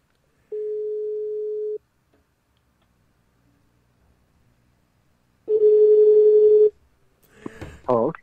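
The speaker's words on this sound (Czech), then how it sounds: "zkusíme to po tom telefonu" Telephone ringback tones during a call being placed: two long steady beeps separated by silence, the second louder, followed by a voice answering at the end.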